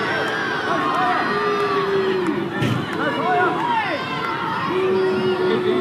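Crowd at a women's W-League semi-final football match between Canberra United and Melbourne City keeps up a steady roar with whistles and rising shouts, while a commentator talks over it.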